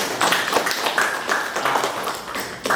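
A room of people applauds together, a dense patter of hand claps rising and fading over a few seconds at moderate distance.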